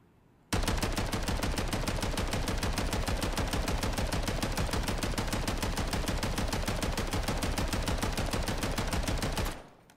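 Rapid, sustained automatic gunfire from a custom weapon in the video game Modern Warfare III, a loud, evenly spaced burst running unbroken for about nine seconds before cutting off.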